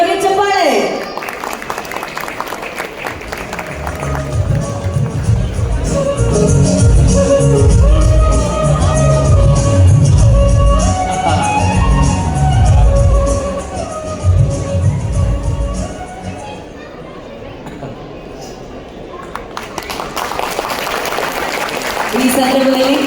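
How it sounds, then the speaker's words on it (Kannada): An audience at an award ceremony breaks into sustained applause and cheering, loud and dense, swelling over several seconds before tapering off, with music and a voice mixed in. "ಬನ್ನಿ ಚಪ್ಪಾಳೆ."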